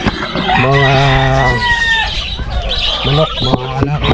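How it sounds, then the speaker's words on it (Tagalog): Breeder hens of the pure Lucky Gold line at a poultry farm, clucking and cackling loudly up close in repeated bursts, with several overlapping calls and a pause midway. "Ito naman yung ating mga breeder na inahin"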